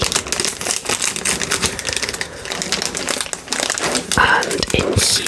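A Halloween sweets packet, sealed with a small ghost sticker, is opened up close, giving dense continuous crinkling and crackling of plastic wrapper that lasts throughout, loud and near.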